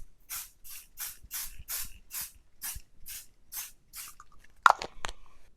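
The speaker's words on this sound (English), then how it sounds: "I'm going to grab my pixie spray." Adhesive pixie spray is sprayed onto paper in about ten short, even hissing bursts. A few sharp clicks follow.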